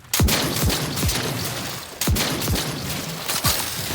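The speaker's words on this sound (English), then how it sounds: "I'm going to switch straight over to my plasma shotgun for our Crabble ads" Plasma shotgun from The Outer Worlds 2 firing roughly every half second to second, sharp loud blasts with falling pitch tails over a dense, noisy game battle backdrop.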